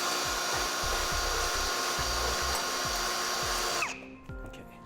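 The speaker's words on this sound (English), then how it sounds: "Now we're going to drill through this layer and up through the second layer." A power drill whirs loudly and steadily as it bores through the hardened base plate material of a Roadmaster crossbar-style kit, then cuts off near the end, leaving a quieter rattle.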